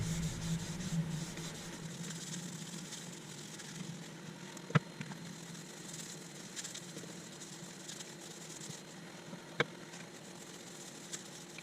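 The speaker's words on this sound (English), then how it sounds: "Time for a bit of hand applied sanding sealer." A steady rubbing hiss of cloth applying sanding sealer by hand to a thin-walled laburnum natural-edge bowl spinning on a lathe chuck, over a constant motor hum, with two sharp clicks.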